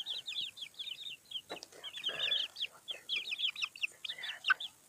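Six young chicks chirp and peep in rapid, high-pitched bursts throughout, fairly close, with no talking.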